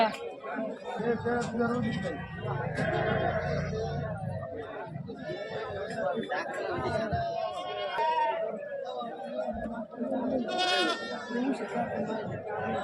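Goats bleat repeatedly amid a busy crowd at a goat market in Talegaon Dhamdhere, with people chattering and haggling over prices throughout.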